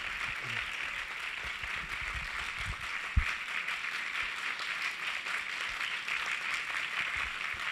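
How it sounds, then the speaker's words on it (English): Audience applause following a devotional drama enactment at an evening event, a steady wash of clapping sustained at moderate level throughout, with one sharp thump near the middle. "Let's give them another round of applause."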